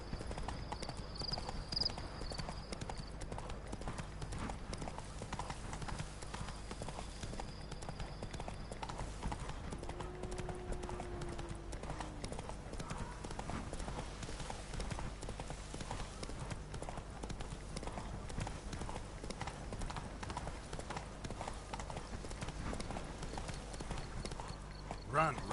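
Horse hooves from The Witcher 3: Wild Hunt, Blood and Wine expansion, clop in a fast continuous galloping rhythm throughout, close and steady, with a brief whinny and game voices talking over it.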